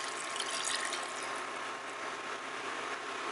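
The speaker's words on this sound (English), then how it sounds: "I'm adding 3 cups of water." Three cups of water pour into a pot holding pork, onions and celery for chop suey, a steady splashing rush heard close and continuous, with no talk.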